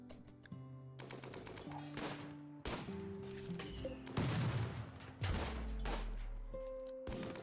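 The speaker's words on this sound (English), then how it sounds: "shoot at that spot" RimWorld colony-game gunfire: scattered sharp shots and short bursts, with a few heavier crashing impacts, over a backdrop of tonal game music.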